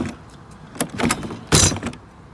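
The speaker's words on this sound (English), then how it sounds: "close the door" An RV entry door is pushed shut with a couple of sharp latching clunks and a faint key jingle, close by, with no talking.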